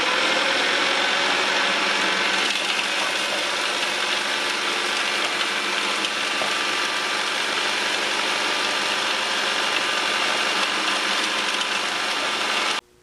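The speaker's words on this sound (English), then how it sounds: "I'll take the eggshells and pulverize them in my food processor." A food processor pulverizes eggshells, giving a loud, steady whirring motor with gritty rattling that runs continuously, then cuts off abruptly at the end.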